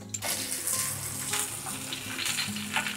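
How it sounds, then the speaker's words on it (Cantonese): Garlic and ginger bits stir-frying in a wok over low heat for black bean spare ribs, a continuous crackling sizzle with stirring scrapes throughout, no voices. "爆香咗啲蒜啊同埋薑粒先"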